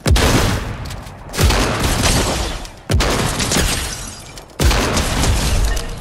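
Four loud, booming shotgun blasts from the Fortnite video game, fired roughly every one and a half seconds, each with a sharp crack and a long ringing tail, with no talking.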